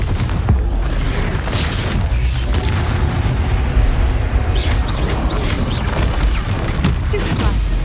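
Repeated booming spell blasts from the Confringo curse in the wizarding game Hogwarts Legacy, loud crashing impacts over a continuous rumbling battle din.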